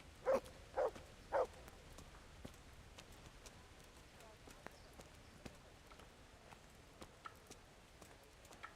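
Three quick horse hoof clops ring out early in Kingdom Come: Deliverance, followed by faint, sparse clicks against a quiet background hum.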